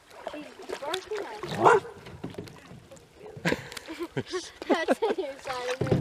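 A dog barks in several short, sharp bursts beside the North Saskatchewan River in bear country. The barks are close and mixed with people talking.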